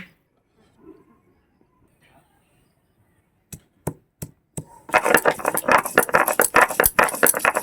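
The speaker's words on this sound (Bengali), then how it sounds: "পনিটা আমি কেটে নিচ্ছি আমি চাকু দিয়ে পারি না" Knife chopping paneer (cottage cheese) on a board for a cauliflower curry: a few sharp separate cuts after a quiet start, then a dense run of rapid rattling chops, close and fairly loud.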